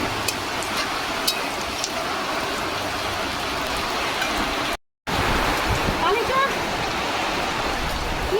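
Dense, steady rushing of heavy rain, broadband and continuous, with a brief dropout midway before the downpour resumes.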